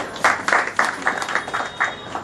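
Audience claps in bursts at an award ceremony, with rhythmic rounds of applause repeating through the moment, fairly close and loud, with no voices over it.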